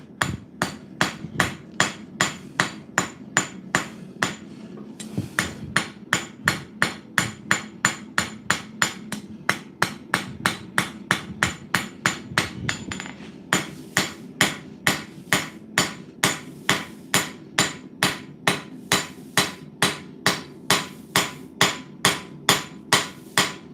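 Metal being hammered while forging, with steady, evenly spaced loud ringing blows repeating throughout, only a short pause partway, no talk.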